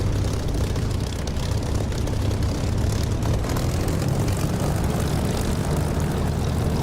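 Propeller aircraft engine in the DCS flight simulator throttling up toward about 1400 RPM for taxi, a loud, steady droning roar with a low pulsing throb that holds constant throughout.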